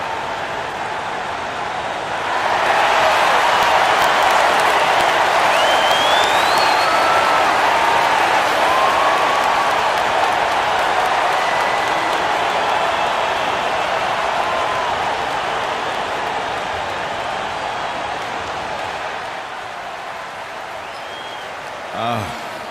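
Arena crowd in an NBA 2K25 basketball game, a broad steady roar of applause and cheering that swells and holds for about twenty seconds before easing off, dense and loud.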